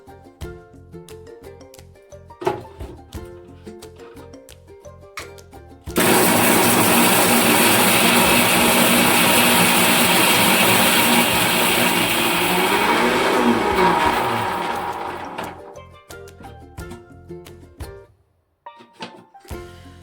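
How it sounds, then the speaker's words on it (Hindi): A kitchen mixer grinder whirs loudly as it grinds soaked bhatt beans, black soybeans from Uttarakhand, starting abruptly, running at a steady roar for about nine seconds, then winding down, with lighter kitchen clatter before and after. "अब मैं इसको पीस लेती हूँ। चलिए पीसते हैं।"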